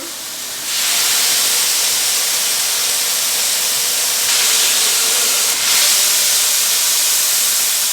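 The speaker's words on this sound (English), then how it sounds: "Now to make sure they all get enough pressure downwards, I do still smash them." Burger patties smashed for smashed burger tacos sizzle loudly on a hot cooking surface. A steady broad hiss surges after a second and swells again partway through as more meat is pressed down.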